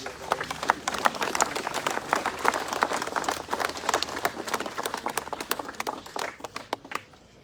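Church congregation applauding during a French-language service, a steady wash of many hands clapping for several seconds, dense and moderately loud, thinning slightly toward the end with no talk over it.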